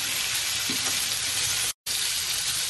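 Shrimp pan-fry in a wok for satay-sauce prawns, making a loud, dense, close-up sizzle that runs steadily apart from a momentary cut.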